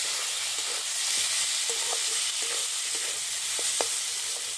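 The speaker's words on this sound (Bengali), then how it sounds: "ধনে গুঁড়ো দিয়ে আরও খানিক্ষণ এটা একটু কষিয়ে নেব" Kashmiri red chili powder, turmeric and coriander powder fry in oil in a pan for a Bengali katla fish and potato curry. A steady close sizzle runs throughout, broken by several short scraping strokes of a stirring spoon.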